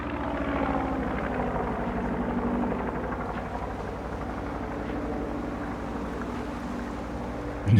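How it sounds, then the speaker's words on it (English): A helicopter's rotor wash roars close by as a loud, steady, low churning rush with a faint rhythmic beat, and a sharp burst of noise comes right at the end. "Jesus Christ, the prop wash."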